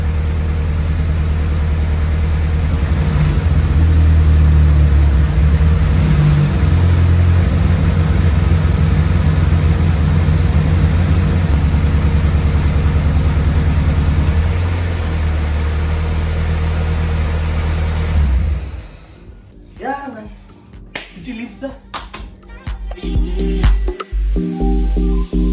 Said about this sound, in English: So I'm just holding the car on a higher rev to try and get the oil to the oil pressure to be